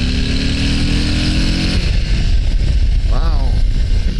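A 2022 Harley-Davidson Low Rider ST motorcycle revs, its engine note climbing as it accelerates, then the tone drops as wind noise takes over on the ride.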